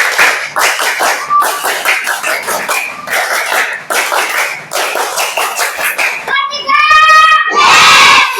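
A group of children clap in a quick repeating rhythmic pattern, loud and close, ending with excited chanted voices.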